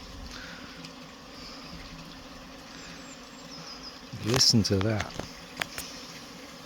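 Honey bees buzzing around their hive after a few cold, wet days, a continuous droning hum close by, briefly joined by a short spoken remark.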